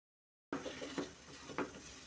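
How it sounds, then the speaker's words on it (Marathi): Besan mixture stirred in a pan over low heat, with a spoon scraping and knocking softly against the pan in a few uneven strokes after a moment of silence, faint and close. "मंद आचेवर आपल्याला व्यवस्थित शिजेपर्यंत हे मिश्रण ढवळत राहायचं आहे किंवा हलवत राहायचं आहे."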